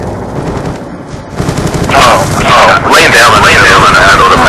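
Machine gun fire in a multiplayer shooter video game, sustained bursts of rapid shots growing louder and denser in the second half, mixed with game noise and a voice talking throughout.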